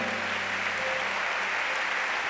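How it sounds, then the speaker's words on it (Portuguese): Church congregation clapping in praise during a Bola de Neve service, a steady roar of many hands with a low hum running underneath. "Dá uma salva de palmas ao Senhor."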